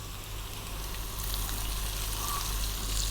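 Curry leaves and onion hissing in hot oil over lively heat, a steady broadband sizzle that swells slightly, close with no talk.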